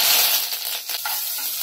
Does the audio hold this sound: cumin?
yes